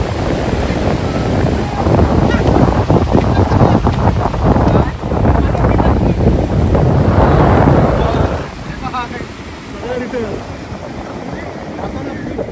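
Sea waves wash along the Konkan shore at Malgund, Ratnagiri, after a Ganpati immersion, with steady broadband surf and wind rumble. The roar is heavy for the first eight seconds and then eases to a quieter wash.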